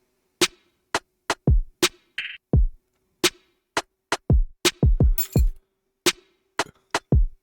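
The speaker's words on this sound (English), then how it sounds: "So this one I'm using hip hop thug life" Magix Music Maker Beatbox playing its hip hop thug life drum pattern: crisp hi-hat ticks, punchy kicks with deep tails and a snare hit in a loose, repeating groove, clean and close with no speech.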